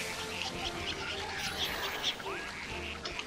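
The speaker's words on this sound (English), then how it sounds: "I can hear them quacking." Ducks quack in New Pokémon Snap, faint quacks scattered over steady game ambience and background music, with voices talking over it.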